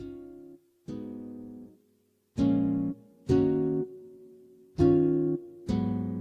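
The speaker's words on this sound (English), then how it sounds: "Yeah, sounds like an acoustic guitar." Analog Lab's Panama synth preset, voiced like an acoustic guitar, plays six plucked chords in an uneven rhythm with short gaps between them, each note decaying quickly, with no voices.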